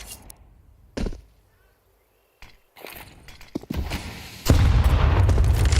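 Grenade blasts in a Counter-Strike pro match: a sharp boom near the one-second mark, then scattered thuds and a loud, sustained burst of explosive noise filling the final second and a half.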